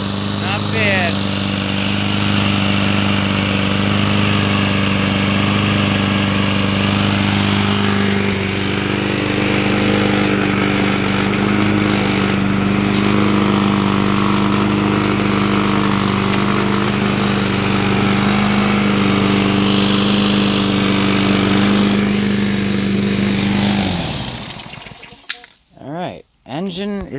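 A 2003 Toro Recycler push mower engine runs roughly, a loud, steady, buzzing drone with uneven roughness that holds for about twenty-four seconds before cutting out, followed by a few scattered clunks.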